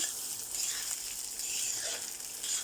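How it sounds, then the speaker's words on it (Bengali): Rice frying in ghee with cinnamon and bay leaves, the base for a biryani, gives a soft, steady sizzle with faint scraping, quiet and close, with no voices. "তো এবার আমি চালগুলা দিচ্ছি। দেখো, আমি চালগুলাকে ভালো করে ভেজে নেব।"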